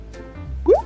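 A single soft plop of food colouring dropping into water for a candle-and-bottle experiment, short and close.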